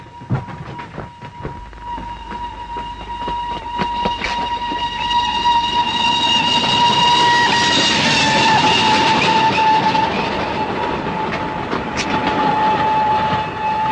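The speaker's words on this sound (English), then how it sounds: "A down express and it'll be here any minute." A down express train roars past close by, clattering wheels building to a loud sustained rush while a long horn sounds over the passing carriages.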